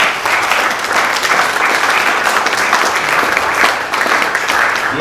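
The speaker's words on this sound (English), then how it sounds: "Can you please give a sound round of applause for Bloomingdale's Africa?" An audience at a talk show forum applauds in a loud, continuous wash of clapping lasting about five seconds, with no pause.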